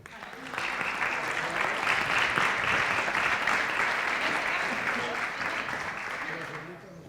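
Audience applause rises quickly and holds as a full, steady clapping for several seconds to welcome a speaker at a rosé wine congress, then tapers off toward the end.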